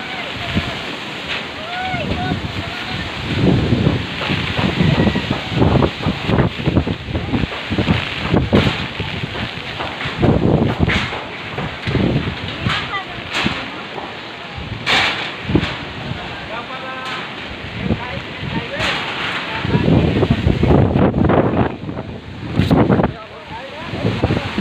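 Strong typhoon winds of Ulysses buffet the microphone in steady roaring gusts, with surging rushes and sharp bursts throughout, loud and close, and a voice speaking intermittently beneath the storm.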